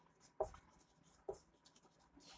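A pen writes a chemistry definition during a lecture on interhalogen compounds, giving two brief scratchy strokes about a second apart, close and fairly quiet, with no talking.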